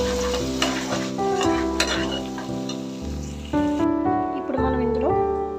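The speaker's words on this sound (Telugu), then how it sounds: "కరివేపాకు వేసి వేయించుకోవాలి." Curry leaves sizzle and crackle loudly in hot oil in a pan for a mutton curry. A steady fry hiss runs throughout, with stirring scrapes and a brief voice over it.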